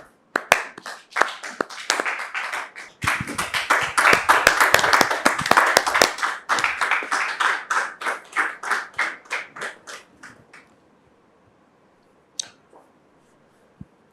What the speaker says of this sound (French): nous le recevons sous vos applaudissements